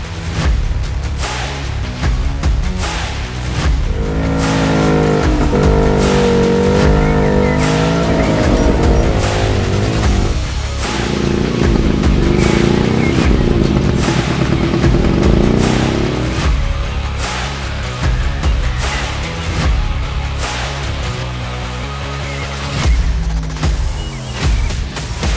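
A Suzuki LJ20 off-road car driving, its engine droning loudly and steadily from inside with revs rising and falling, plus bumps and rattles along the way.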